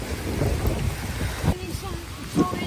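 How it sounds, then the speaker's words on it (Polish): Heavy rain pours steadily during a storm in Dubai, a dense broadband wash close around, with a couple of brief rumbling thumps and faint voices in the background. "Już zaczyna znowu padać i to tak konkretnie."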